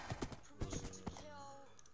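Video game horse hooves clop in an uneven rhythm, several quick strikes fairly quiet and close, then fading into a soft ambient hum.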